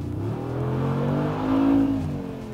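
A Mercedes G-Class with a turbocharged multi-cylinder engine revs and accelerates, a loud, steady low growl that swells and rises in pitch before easing off, with no talking.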